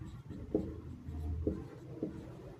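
A maths formula is written out by hand. The scratchy writing strokes come close and fairly quiet, with three distinct accented strokes over a soft continuous scribble.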